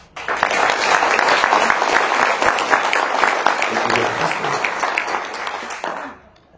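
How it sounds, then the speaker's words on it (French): Warm, sustained applause fills the hall at a mayor's New Year greetings ceremony in Caro, a dense wash of many hands clapping steadily for several seconds before fading out. "Ils peuvent, je pense, recevoir, vous aussi, de chaleureux applaudissements."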